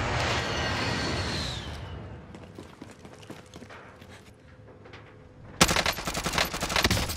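Rapid gunfire crackles through a shooter video game, a dense burst of shots early on, sparser pops in the middle, then a loud renewed volley near the end, with no talk over it.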